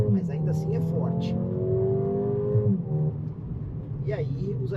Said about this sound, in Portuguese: Acelerando, saindo. A saída já é outra, já não tem aquela paulada, mas ainda assim é forte.